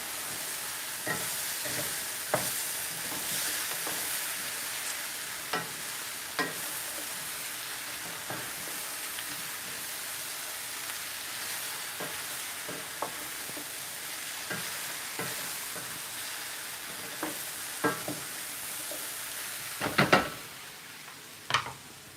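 Oil sizzles steadily in a pot of Puerto Rican sancocho soup ingredients while a spoon stirs through them, giving repeated soft scrapes and clicks over the hiss, with a louder clatter near the end.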